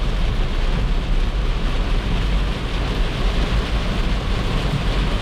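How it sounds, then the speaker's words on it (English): Very heavy rain pours down during a thunderstorm in northwestern Ohio, a loud, constant roar of drumming water with a deep rumbling undertone, heard from close by with no voices. "Very heavy rain."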